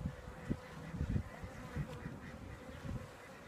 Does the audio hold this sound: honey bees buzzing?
yes